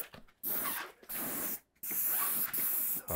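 Paint sprayer at low pressure, around 1500 PSI, coating furniture drawers in short hissing bursts: four close, loud sprays separated by brief pauses.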